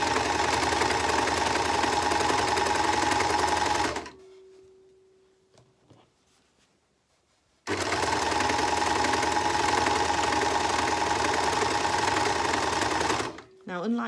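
Sewing machine stitching a fabric seam on a reusable fabric storage bag, running in a steady rapid whir for about four seconds, pausing briefly, then running again for several more seconds before stopping.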